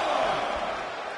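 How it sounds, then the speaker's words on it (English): A wrestling arena crowd roars in a dense, loud, sustained wash of cheering that fills the whole moment without a break. "The sound of this crowd is deafening"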